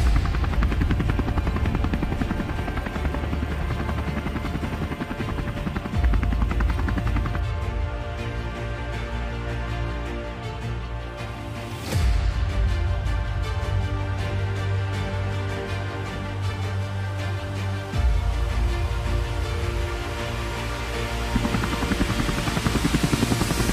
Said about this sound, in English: I will send a helicopter to pick him up.